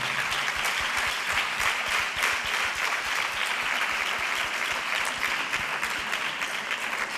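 An audience applauding in a hall after a talk, sustained loud clapping with some individual claps standing out, continuous from start to finish.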